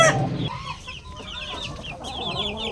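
A young gamecock stag clucks close by in short chirping calls, with other fowl softly audible around it on a small backyard poultry farm.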